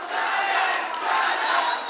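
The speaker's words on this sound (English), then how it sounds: "And the crowd is cheering loudly for Shayan." Loud crowd cheering and shouting fills an arena during the final round of a mixed martial arts semi-final bout, a dense continuous roar with swelling bursts throughout.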